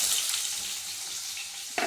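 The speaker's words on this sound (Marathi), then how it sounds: "जिरी मोहरी टाकते, मोहरी आणि जिरी" Cumin and mustard seeds hit hot oil with a steady, bright crackling sizzle that carries on close and loud, then swells with a fresh burst near the end.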